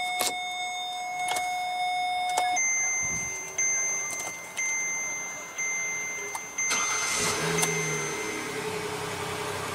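A few electronic chimes ring out before a 2015 Kia Sedona's 3.3 liter V6 cranks and catches via push-button ignition. It settles into a steady idle hum close by, with no one talking.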